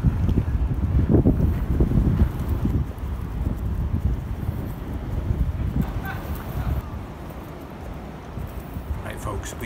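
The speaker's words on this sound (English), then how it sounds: "Right, it's very windy." Strong wind buffets the microphone outdoors at a wildlife park, giving a loud, continuous rumbling roar that eases off slightly toward the end, with a voice speaking over part of it.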